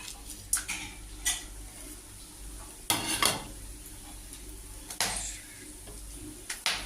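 Whole garam masala spices drop into hot oil in a pan for a vegetarian banana-flower fritter curry, with a soft sizzle under repeated sharp clinks and scrapes of a spatula stirring against the pan.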